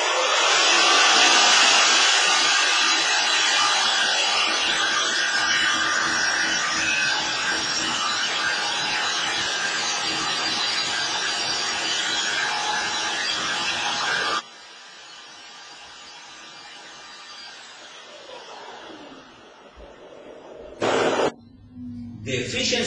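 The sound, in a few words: liquid ring compressor with rotating casing running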